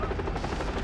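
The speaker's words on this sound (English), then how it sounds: "I see a helicopter!" A helicopter in the shooter game Far Cry 3 makes a loud, close, continuous rotor chop with a rapid pulsing beat that fills the whole moment.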